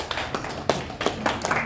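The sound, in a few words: audience applause at a medical conference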